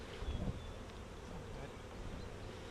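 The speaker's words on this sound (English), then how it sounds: "I brought some mean bees over with me" Agitated honeybees buzz faintly around a beekeeper during a hive lesson outdoors, a soft continuous hum with a brief louder low rumble near the start.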